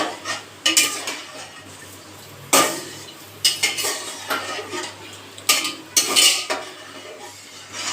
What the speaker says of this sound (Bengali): ভালো করে মা মিক্স করে নিচ্ছে।